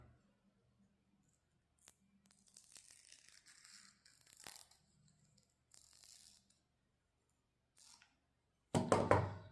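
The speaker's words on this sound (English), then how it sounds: "I like to use scissors to just cut it whichever way I want" Scissors snip through a turkey wing feather being trimmed for arrow fletching, several short dry crinkly cuts close up in a quiet room, ending with a louder rustle.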